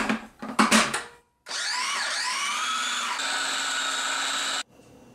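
A food processor whirs steadily for about three seconds as it pulses a chicken and shiitake mushroom pot sticker filling. A few short clattering knocks come first, and the motor stops abruptly.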